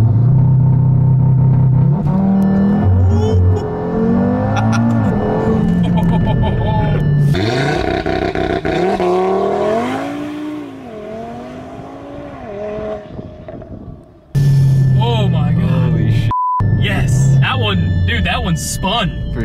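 Audi TT RS launching hard on a street, a loud roaring engine climbing and surging through gears with tire noise, a brief gap near the end, and people talking over and between the runs.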